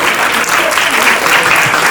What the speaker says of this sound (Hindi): एक बार जोरदार तालियां नंदिता मैम के लिए